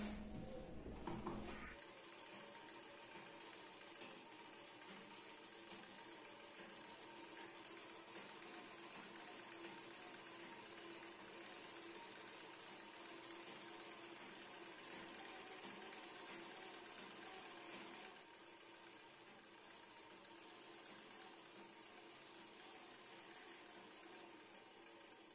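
A sewing machine stitches along a blouse neckline, giving a steady, continuous mechanical hum and whir that runs unbroken and fairly faint, softening slightly toward the end.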